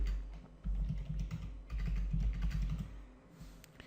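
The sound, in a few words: typing code on a computer keyboard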